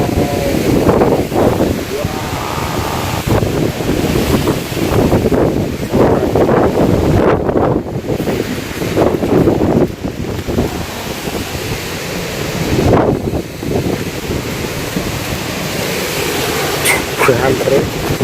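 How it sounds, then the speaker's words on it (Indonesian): Very strong wind buffeting outdoors at a factory yard with containers, roaring gusts that surge and ease in loud waves across the whole stretch, mixed with blustery microphone rumble while someone talks intermittently. "anginnya kenceng banget ini"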